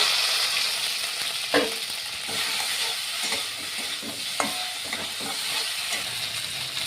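Okra hits hot oil spiked with mustard seeds and dried chilli, giving a steady, close, hissing sizzle with a few sharper spits and crackles, and no one talking.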